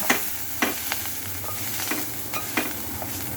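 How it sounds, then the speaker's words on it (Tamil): Onions are lightly sautéed in oil in a pan, giving a steady soft sizzle with several scraping stirs of a spatula, close and moderately loud. "லைட்டாக வதக்கிக்கிறோம்"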